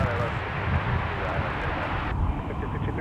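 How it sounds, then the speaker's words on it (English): A Lufthansa Airbus A330 jet airliner at MSP airport, its engines a dense, steady roar close by, loud and unbroken across the whole stretch, with a voice talking over it. "Flight currently in frame, Lufthansa 483 Heavy bound for Frankfurt, Germany with our Star Alliance A330,"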